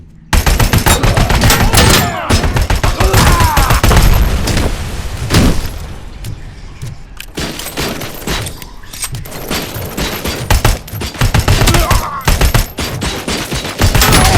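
Dense, near-continuous gunfire and explosive bursts from a RoboCop video game firefight with a thrown grenade, loud and sustained throughout with brief lulls and heavy impacts.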